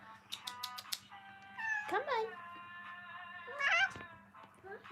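A pet cat meows several times indoors, first in quick short chirps and then in longer drawn-out cries at moderate volume, with someone speaking briefly in between.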